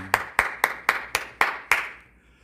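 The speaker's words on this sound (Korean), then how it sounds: "우리 다시 한번 하나님께 감사의 박수 드리겠습니다." Church congregation clapping in thanks during a Korean worship service: seven evenly spaced, crisp unison claps in a steady rhythm, close and clear, then a short fading tail with no voices.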